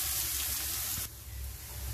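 Garlic paste fries in oil with onions in a pan for chicken yakhni pulao, giving a dense, steady, close-up sizzle that drops slightly in intensity partway through, with no talking.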